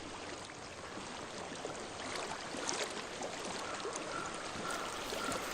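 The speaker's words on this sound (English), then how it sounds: "I hear water." Steady flowing water in the video game Hellblade: Senua's Sacrifice, a continuous soft rushing stream with no voices, even and moderately faint throughout.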